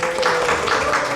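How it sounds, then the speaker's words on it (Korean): Brief burst of congregational clapping during a Korean church Sunday service in Dubai, a steady patter of many hands close by and moderately loud. "우리 헌이 박수."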